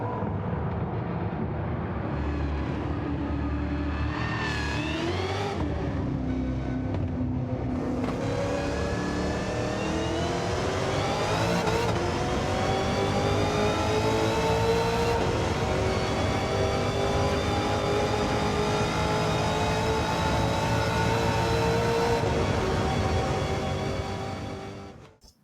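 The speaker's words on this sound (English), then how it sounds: "a supercharger whine that makes every petrolhead's knees tremble" A supercharged car in Gran Turismo 7 wails with a loud, steady supercharger whine as the engine revs and climbs through gears, near and continuous for the whole stretch before cutting off sharply at the end.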